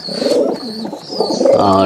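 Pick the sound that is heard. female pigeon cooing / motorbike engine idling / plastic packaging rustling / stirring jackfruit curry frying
female pigeon cooing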